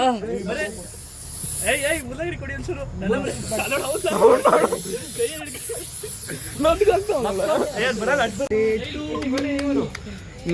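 A sparkler burns with a bright, continuous hiss at a birthday celebration while several people talk loudly over it.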